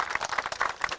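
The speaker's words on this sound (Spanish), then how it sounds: "Un aplauso." Applause from a gathered crowd at a community housing handover, a short burst of dense, continuous clapping at steady loudness with no talk over it.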